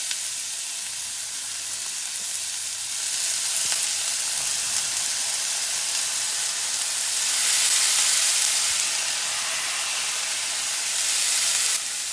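Chopped chayote frying in hot oil with mustard seeds and curry leaves gives off a steady, close sizzle that swells and eases as it cooks, with no voices.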